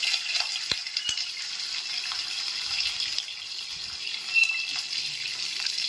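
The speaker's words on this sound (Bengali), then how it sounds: "একটু জল দিয়ে দিচ্ছি" Water poured into a pan while cooking paneer curry with bay leaf and ginger paste, a steady running, splashing wash with a couple of sharp clicks, close and continuous with no talking.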